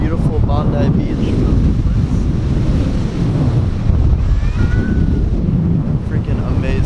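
Ocean surf at Bondi Beach washes in a constant, loud roar, mixed with heavy wind buffeting and distant faint voices.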